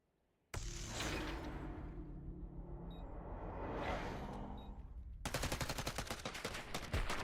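Gunfire in a competitive esports shooter match: after a brief silence, loud sustained shooting starts, then gives way to a fast rattling automatic burst near the end.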